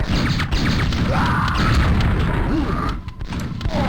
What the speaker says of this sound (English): Unnecessary explosions, gratuitous violence, and all in between.